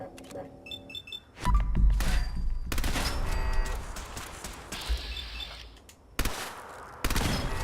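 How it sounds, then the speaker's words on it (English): Automated turrets in Fallout 4 fire bursts of gunfire at close range, with rapid shots and impacts layered over other game effects. "I was greeted by these two turrets just trying to annihilate me"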